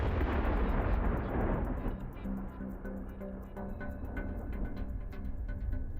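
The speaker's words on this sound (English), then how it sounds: "An explosion sends a stream of molten copper cutting through the steel." A shaped charge detonates against a steel column, firing a jet of molten copper through the metal; a loud, sustained rumbling blast with dense low-end roar fills the stretch, followed by scattered sharp crackles as it fades.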